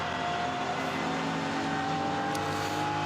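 The number 72 BMW Junior Team race car at the Nürburgring during 24-hour race qualifying, its engine a steady, sustained drone at moderate distance, continuous throughout with no voices.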